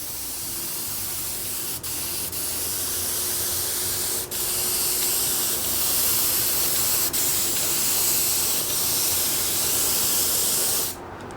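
A spray gun loaded with gray paint hisses steadily over a compound-coated custom panel, a continuous close airy rush broken by a few brief trigger pauses.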